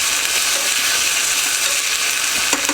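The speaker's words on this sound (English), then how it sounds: "Every time you add whole spices to oil, fat," Whole spices sizzle in hot oil for a dal tadka, a steady, dense crackling hiss that stays close and even throughout with no talking.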